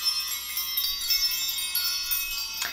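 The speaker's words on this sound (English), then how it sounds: "I want to ring the bells and create some sacred space around this reading." Bells ring out in a steady, bright shimmer of sustained high tones with light repeated strikes, close and alone, sounded to set a sacred space before a tarot reading.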